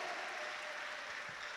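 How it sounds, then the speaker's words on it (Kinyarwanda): Brief, faint applause fills a church service, a dense even patter of many hands clapping at a distance with no voices over it. "Muhimana amashyi menshi"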